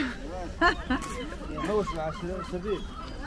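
Seagulls at a fishing port, where fish guts are thrown to them, give repeated nasal, honking cries close by in quick overlapping bursts.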